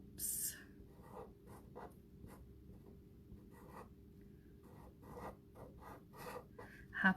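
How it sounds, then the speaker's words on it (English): Quick marker strokes of bubble letters spelling Happy Easter on a bunny craft sign, soft scratchy scribbles in short bursts, close and faint, with brief bits of low talk between strokes. "I'll do some very, very quick bubble writing."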